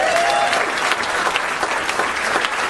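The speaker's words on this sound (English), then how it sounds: "Give him a big round of applause." Comedy show audience breaks into loud, dense applause, a steady wash of many hands clapping close and full for a few seconds, with a faint voice briefly audible at the start.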